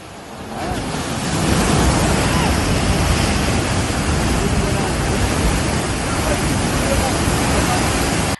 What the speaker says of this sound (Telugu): కాళేశ్వరం నీళ్లు షిమ్మిచ్చి వస్తున్నాయి, ఎగిరెగిరి వాడుతున్నాయి, కాల్వలల్లా నిండుగా వాడుతున్నాయి.